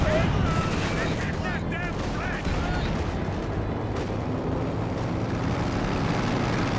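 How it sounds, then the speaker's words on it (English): A Katyusha rocket launcher barrage in Company of Heroes 2 fills the scene with dense, rumbling rocket fire and blasts at moderate level, with battle noise all around and occasional whistling tones above. "I think I'm about to use my Katyushas if I'm not mistaken"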